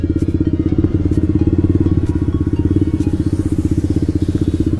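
A motorcycle fitted with an aftermarket exhaust throbs loud and close in a steady, fast pulsing rumble, holding an even beat throughout without talking.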